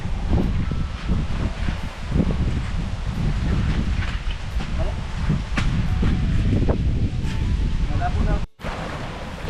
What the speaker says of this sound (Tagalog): Hangin.